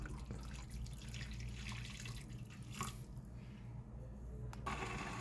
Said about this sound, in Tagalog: So, lalagay lang tayo ng tubig.